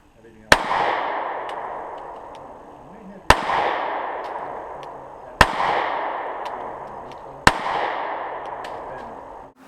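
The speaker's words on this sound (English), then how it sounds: "I recognize this is a 9mm, nevertheless it feels really good to shoot." Four sharp, loud gunshots from a Sig Sauer P938 9mm pistol at an outdoor range, spaced evenly about three seconds apart, each followed by a long ringing decay.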